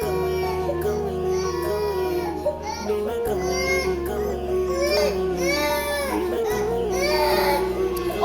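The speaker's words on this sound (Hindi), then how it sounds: "लेकिन मेरा बच्चा रो रहा है" A baby cries loudly and steadily in a domestic scene from a Pakistani drama, the wails rising and falling over a sustained musical background.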